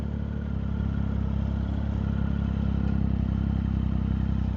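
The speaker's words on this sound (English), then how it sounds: "I swear I could hear a freaking motorbike or something." A constant low motorbike engine rumble with a rapid, even throb, holding steady and fairly close rather than rising and fading as it would passing by, with no talking.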